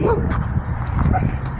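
Dogs bark and yip repeatedly at close range, loud and insistent, in short overlapping bursts outdoors near a parked Pontiac Firebird Trans Am muscle car.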